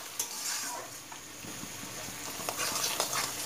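A spice masala for a pomfret fish curry cooks down in oil in a pan, giving a moderate sizzle with soft, uneven scraping and stirring sounds.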